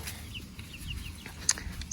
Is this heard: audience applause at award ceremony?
no